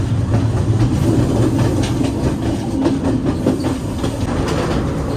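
A passenger train rolls along rails through Sri Lanka's upcountry hills between Badulla and Colombo, a loud continuous rumble with rhythmic clickety-clack of wheels over rail joints and carriage rattles, close and steady throughout.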